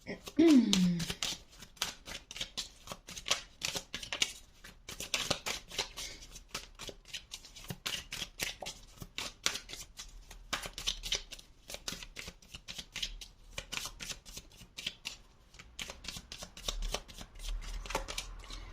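Tarot cards being shuffled by hand, repeated riffling and flicking bursts in quick irregular runs, close and crisp, with a voice speaking intermittently over them.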